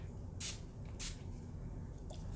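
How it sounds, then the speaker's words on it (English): A spray bottle mists a makeup brush in three short hissing bursts, two close together and a fainter third, each quick and close, with no talk. "Spray my brush."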